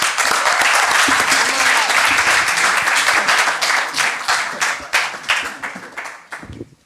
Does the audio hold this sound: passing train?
no